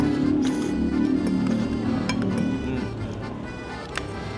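Glasses clink together in a toast at a breakfast table in Lipa, Batangas, a couple of bright chimes standing out over busy restaurant chatter and background voices.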